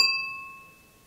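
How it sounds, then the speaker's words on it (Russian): A single bright ding as a spoon strikes a wine glass rim, the clear ringing tone fading slowly over the second. "ударим ложечкой по краю бокала и запишем этот звук."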